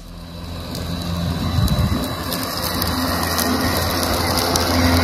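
A Skil 40V electric self-propelled lawnmower runs close by with a steady, loud whirring hum that holds throughout, with a brief louder surge near the start.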